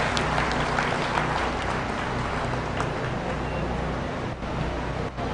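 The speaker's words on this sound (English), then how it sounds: "Let's give everybody a round of applause" Steady dense crowd applause at a youth fair livestock show arena, loud and continuous for several seconds with no talk over it.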